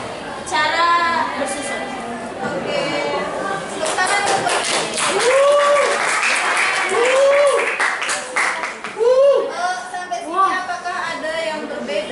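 Classroom applause from students during a lesson, steady clapping running under loud overlapping speech and chatter for the whole stretch, with a voice rising and falling over it.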